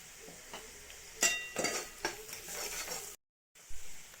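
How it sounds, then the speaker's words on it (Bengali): Chopped onions frying in oil in a pan, a close sizzle with spoon stirring scrapes and clinks against the metal, briefly cut off by a short silent gap before the sizzling resumes. "ওই তেলের মধ্যে দেখো পেঁয়াজ কুচিগুলো দিয়ে দিলাম, একটু ভেজে নেব।"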